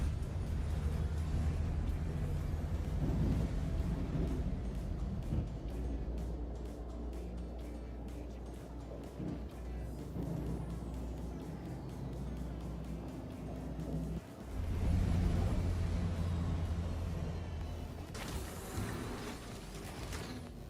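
The engines of the C1 Spirit spaceship in Star Citizen hum at a low, steady level with mechanical whirring and a brief dip before swelling louder again. No one speaks over the engines.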